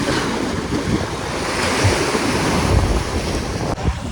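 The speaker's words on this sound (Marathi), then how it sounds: "हे बघा लाटा म्हणजे फारच फारच" Sea waves crashing on rocks along a shore, a loud continuous surf roar with swelling surges and heavy wind buffeting the microphone, no voices over it.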